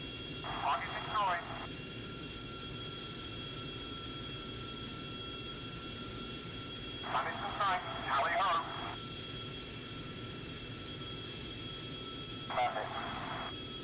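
Steady drone of aircraft engines at cruise power in the Strike Fighters 2 flight sim, a constant low hum and tone running throughout, broken by brief bursts of radio chatter.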